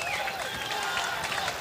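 An audience at a boxing event applauds after a knockout, giving a dense, steady burst of clapping from a crowd with a few high voices and whistles mixed in, continuous and fairly loud.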